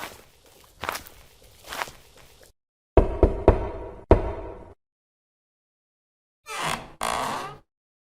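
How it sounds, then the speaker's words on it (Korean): Hard knocks land on a wooden house gate in separate clusters, with several sharp raps in a row, pauses of silence between the groups, and no voices. "길을 가다가 해가 기울어 하룻밤 신세를 지려고 강부자 집의 대문을 두드렸습니다"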